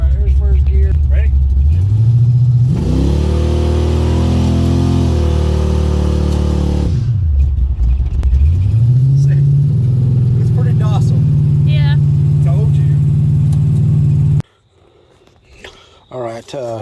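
A Camaro with a positraction rear end takes off hard in first gear from a garage driveway, its engine revving up loudly, holding a high roar, then dropping and climbing again before cutting off, with people talking near the end.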